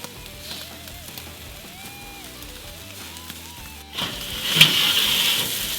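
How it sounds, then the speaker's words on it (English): Prime rib laid on a grate over hot BBQ coals starts searing with a crackling sizzle that rises abruptly partway through, following quieter background hum and faint tones; no clear speech over it. "we're going to get that prime rib on there, and we're going to start searing each side for about 1 minute"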